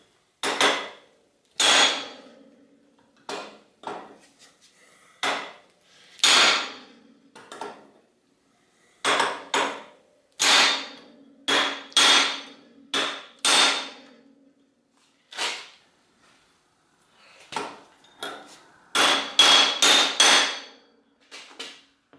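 Repeated sharp metal-on-metal hammer blows strike a stuck crank cotter pin on a vintage bicycle, coming in irregular bursts of single and double hits, close and clear with no talking.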